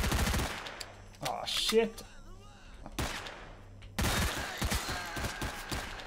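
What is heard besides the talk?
shotgun gunfire in the video game S.T.A.L.K.E.R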